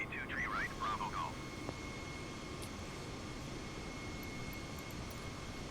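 Steady engine drone of an Asiana Airlines airliner taxiing in a flight simulator game, a constant broadband hum with a faint tonal whine, heard alone after brief chirpy radio-like sounds at the start.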